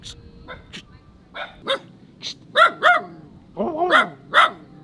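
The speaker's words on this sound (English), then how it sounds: "Dog, you are very noisy." A dog barks and yips repeatedly at close range, irregular sharp barks growing louder and more insistent toward the end.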